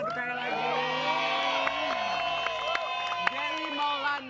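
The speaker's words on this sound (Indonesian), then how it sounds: "boleh kita kasih tepuk tangan satu kali lagi" Crowd cheering and applauding at a stage event honoring a married celebrity couple, with steady loud cheers and whoops carrying throughout while music tones sustain underneath.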